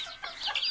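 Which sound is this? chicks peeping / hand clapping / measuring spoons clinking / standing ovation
chicks peeping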